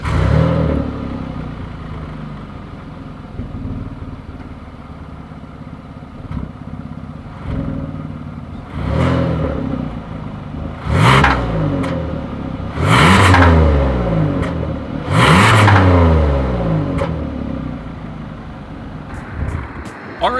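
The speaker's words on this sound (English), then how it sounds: "As always, here is that exhaust clip." A 2020 Kia Telluride revs through its dual chrome exhaust tips, with several sharp rising and falling blips over a steady idle, close and fairly loud.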